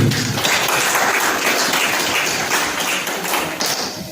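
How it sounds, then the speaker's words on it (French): Loud, sustained applause from an audience at a student eloquence day in Bouhou, dense clapping filling the room and tapering slightly toward the end. "Vos applaudissements pour eux, s'il vous plaît."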